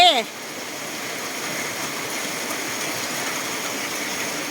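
Water gushes out of a small dam during rainfall, making a steady, continuous broadband rush after a brief voice at the very start.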